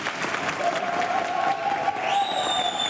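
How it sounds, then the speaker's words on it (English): A canned cheering and applause track plays on a podcast, steady clapping and crowd noise throughout at fairly loud level, with a faint whistle-like tone rising near the end. "We got Allie, hit us up with a cheer track."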